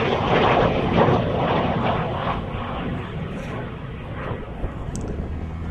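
A de Havilland Vampire twin-boom jet flies past at an air show, a broad, steady roar at moderate distance that slowly fades, with no talking.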